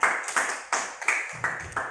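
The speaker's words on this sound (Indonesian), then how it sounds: "Tepuk tangan untuk Rida." A primary school class claps for a pupil, a handful of distinct, fairly close claps in an uneven rhythm, roughly six or seven strikes with short decays, no talking.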